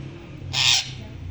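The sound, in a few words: parrot imitating a crow's caw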